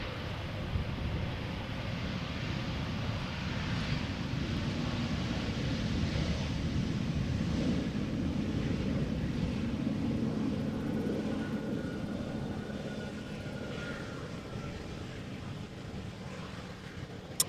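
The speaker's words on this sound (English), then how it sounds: "Another Embraer 190 flying for KLM, arriving from Newcastle" A KLM Embraer 190 jet arrives at Amsterdam Schiphol from Newcastle as a steady, broad engine roar that holds loud for the whole stretch and eases slightly toward the end.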